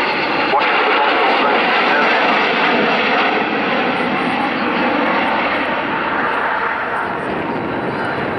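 The Avro Vulcan XH558 jet bomber roars through an air show flying display, a loud, sustained broadband engine rumble, with an announcer talking over it.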